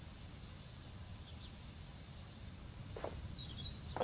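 In the Power Wash Simulator video game, a pressure washer hoses down dirty dinosaur figures, producing a soft, continuous, even hiss that stays faint throughout, with a few tiny chirps over the top.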